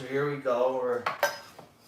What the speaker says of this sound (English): You guys are slowing me down from chopping these veggies